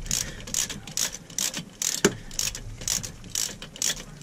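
A ratchet wrench snugging down manifold bolts on a Mercruiser 5.7 marine engine, giving repeated quick bursts of clicking in a steady back-and-forth rhythm, close and fairly clear with no talk.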